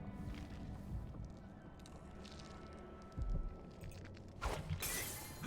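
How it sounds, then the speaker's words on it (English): Glass shatters in a video game: a sharp, bright crash near the end, preceded by a smaller crack, over a steady murmur of ambient game noise. "sounded like broken glass"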